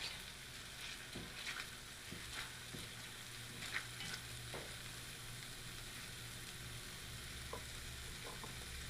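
Crispy bits sizzle and fry in a pan for chicken potpie while being stirred, with a steady hiss and occasional scraping and tapping of the utensil against the pan.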